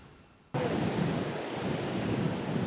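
Rough sea surf at Konnad beach, Kozhikode, during heavy rain and sea surge. After a half-second lull, a loud, continuous roar of breaking waves sets in, mixed with wind buffeting.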